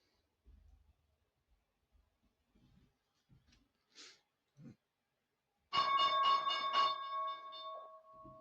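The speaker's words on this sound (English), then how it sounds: "And there is the bell." A stock market opening bell rings for about a second with a bright, sustained clang and then fades, after a stretch of near silence broken by faint, scattered small sounds.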